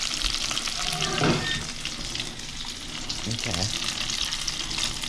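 Bullhead fish fillets frying in a hot pan, a steady loud sizzle throughout with a brief scrape or stir and a short spoken word partway through.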